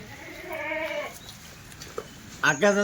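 Kathiyawadi goats bleat with wavering cries, one near the start and another close and louder at the end, with faint voices and farm noise in between.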